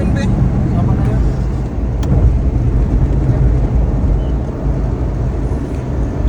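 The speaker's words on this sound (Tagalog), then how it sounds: "kani po siya nga unit mga boss is turbo type ni siya nga minivan" Turbo minivan cruising along a road on a long trip, steady engine and tyre rumble heard from inside the cabin, loud and constant with people talking over it.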